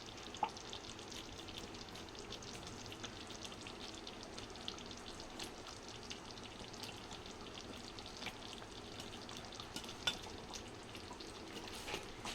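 Eggs frying with tomatoes in a pan for mirchi ka salan, a quiet, even crackling sizzle with occasional sharper pops, steady throughout and free of talk.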